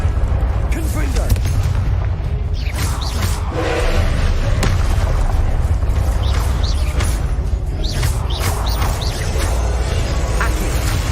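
Repeated Confringo fire-spell explosions in the Hogwarts Legacy video game, dense booming blasts and thuds layered over a constant loud low rumble of game sound across the whole stretch, with sharp cracks recurring every second or so.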